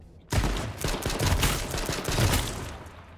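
Gunfire in the video game H1Z1 erupts as a rapid, close burst of overlapping shots lasting a few seconds, with no talk over it.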